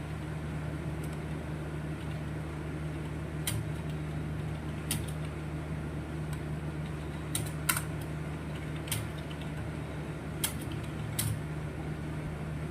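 Typing on a computer keyboard in a quiet room over a steady low electrical hum, with sparse, sharp individual key presses and a few louder strikes such as the Enter key.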